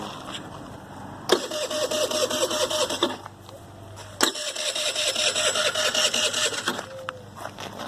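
A Tao Tao 50cc scooter engine cranks twice, each attempt a loud, close whirring burst of a few seconds that fails to catch, with a quiet pause between the tries.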